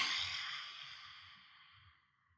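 A slow, deep breath drawn in during a children's yoga lesson on emotions, a soft airy rush that starts strongest and fades away over a couple of seconds, heard alone without talk.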